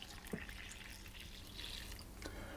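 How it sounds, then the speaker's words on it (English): Lukewarm water poured into a well in flour for cheese and onion bread dough, heard as a soft, steady trickle and a few drips over a faint hiss, with no voices. "make a well in the centre of the flour and pour your lukewarm water"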